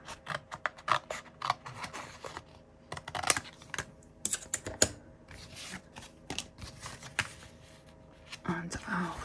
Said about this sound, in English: So let's just cut that to size.